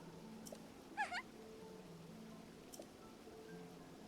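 A short cat meow from the Zelda Breath of the Wild video game, one brief call heard faintly over a quiet background hum, with no talking.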